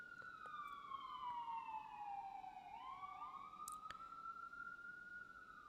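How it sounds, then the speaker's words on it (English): An emergency siren wails steadily in the background, its pitch sweeping slowly down and then back up, loud and sustained throughout. "Sorry about the siren."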